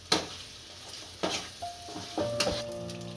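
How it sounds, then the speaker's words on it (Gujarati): Makhandi halwa mixture is roasted in a pan while being stirred: several separate scraping strokes of a spoon against the pan over a soft sizzle, with a faint ringing tone near the end and no talking. "આમાં આપણે સારી રીતનો શેકી લેશું."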